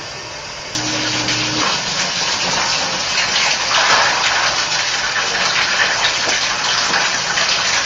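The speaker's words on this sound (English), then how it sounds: "I'm also letting the tub fill up" Water gushes steadily into a bathtub as it fills during a bathroom remodel. The rush is loud, continuous and close, with no voices.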